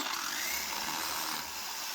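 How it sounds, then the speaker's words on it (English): A power drill bores bolt holes into a thick concrete wall to mount a shoe rack, giving a continuous loud grinding whir up close for the whole stretch. "Now that I marked where the holes need to go, we're going to start drilling them in."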